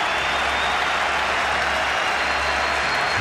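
Cricket crowd at a Pindi match applauding a batsman's fifty, a steady, dense wash of clapping and crowd noise that holds loud and unbroken throughout.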